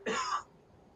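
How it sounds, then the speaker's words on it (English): A single short, harsh cough or throat-clearing burst from a person, close and fairly loud, followed by quiet. "this screaming is making me cough"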